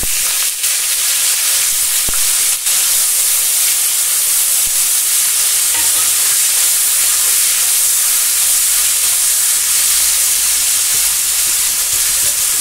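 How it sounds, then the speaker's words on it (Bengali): Paneer fries lightly in hot salted oil in a pan, giving a loud, continuous broadband hiss close by, with a couple of brief clicks early on and no speech. "শুধু পনিরটা অল্প ভেজে নেব, অল্প হালকা করে"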